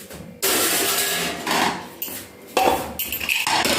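A lid being placed on a cooking pot of green moong dal, loud metallic clattering and scraping in a few bursts, close by with no talking.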